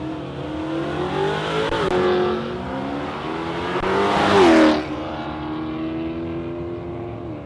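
A Mustang and an HQ Holden roar off together down a drag strip, their loud engines revving hard and rising in pitch as they accelerate, with a sharp surge of power midway before settling into a sustained drone.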